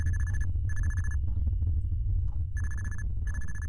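A phone rings in the RootMan video game with a repeating electronic tone in regular bursts and gaps, over a constant low droning ambience.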